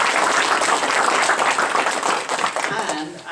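A round of applause from an audience at a presentation, dense crowd clapping at moderate volume that tapers off toward the end, with voices faintly underneath.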